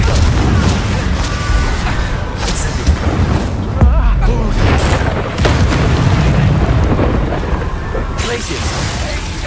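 Blasting-spell explosions from Hogwarts Legacy, a series of loud booming impacts and crackling bursts layered with rumbling magical effects, continuous and dense throughout.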